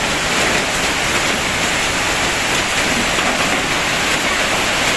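Heavy rain pouring down steadily, a loud dense broadband hiss with no breaks, close and without any voices.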